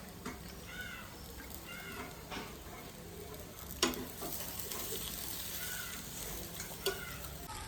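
Dosa batter frying and sizzling in oil on a home pan, a soft continuous hiss with faint scraping and occasional clicks, quiet and close, with background bird chirps and a brief sharp knock.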